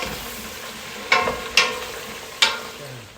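Onions cooking down in a stock pot for French onion soup give a steady low sizzle, broken by three sharp scraping stirs.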